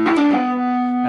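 A single sustained electric guitar chord, heavily distorted with effects, loud and ringing before a brief pick attack at the end.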